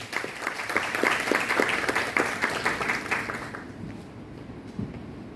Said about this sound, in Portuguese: Recebamos com uma salva de palmas calorosa Cláudio Medeiros.